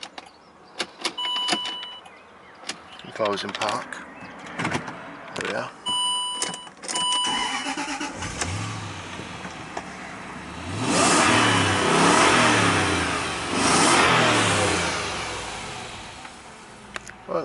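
A supercharged 4.2 V8 Range Rover Sport with automatic gearbox is started inside the cabin amid a few clicks and chimes, then revved in several rising and falling bursts, with someone speaking briefly beforehand.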